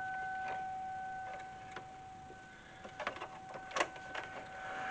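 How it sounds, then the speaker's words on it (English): A sewing machine stitches leather for a vest, running a few stitches in reverse and then forward, a quiet series of uneven ticking needle strokes over a steady faint electrical hum, with no voices. "Hit reverse. Go backwards about 5 stitches. Forward another 5 stitches."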